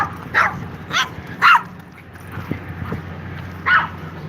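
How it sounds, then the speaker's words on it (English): A dog barks in short sharp bursts, three quick ones followed by a pause and then a fourth, heard fairly near against quiet background sound. "Shut up, you barking mutt."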